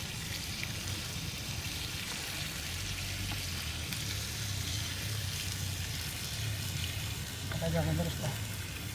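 Kwetiau with beef skin fries in a pan over a gas flame outdoors, giving a steady, close sizzle with occasional stirring scrapes, while people talk over it.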